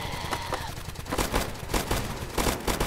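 Rapid gunfire from players shooting zombies in the Roblox game Zombie Uprising: dense bursts of shots crackle continuously at close range, sometimes stacking into volleys.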